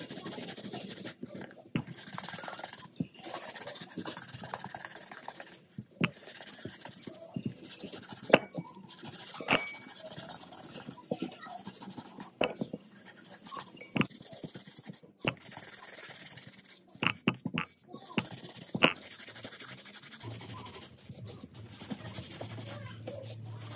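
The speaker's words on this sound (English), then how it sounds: "Once I was done scrubbing the first shoe" A white shoe is scrubbed with toothpaste and a brush, giving close, faint, irregular scratching and rubbing strokes with a few sharper ticks and occasional pauses throughout.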